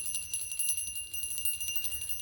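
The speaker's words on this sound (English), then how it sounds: "So I'm gonna ring the bell here." A small bell rung for a spiritual reading rings out in a sustained, shimmering high tone, steady and fairly quiet, with no voices present.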